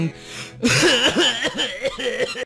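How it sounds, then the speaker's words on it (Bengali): A person coughs repeatedly in a tuberculosis awareness spot, a run of roughly half a dozen harsh, voiced coughs in a steady rhythm, close and fairly loud, after a quieter opening. "ওই অত কাশতেছিস কেন?"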